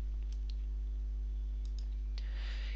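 A mouse clicks a few times on a computer while pages are managed in a WordPress site editor, quiet sharp clicks spaced apart over a steady low hum, with a soft rustle near the end.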